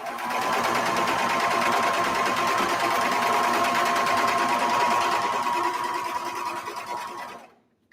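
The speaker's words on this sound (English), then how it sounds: "we're sewing down the arm of the second side" A sewing machine runs steadily, stitching down the arm seam of a cozy sweatshirt, its close, continuous whir holding for about seven seconds before slowing and stopping near the end.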